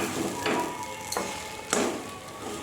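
A thick, sticky mixture is stirred in a pan, with a few distinct scraping strokes over a soft continuous sizzle. No one speaks.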